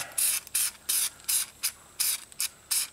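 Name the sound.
spraying rust-prevention fluid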